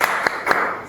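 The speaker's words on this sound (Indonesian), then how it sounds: "Tepuk-tepuk semangat." Rhythmic hand clapping in a classroom 'tepuk semangat' clap routine, three quick sharp claps evenly spaced in under a second, close and fairly loud.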